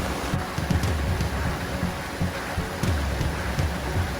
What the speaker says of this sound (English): It's looking like the rain might be moving in on us finally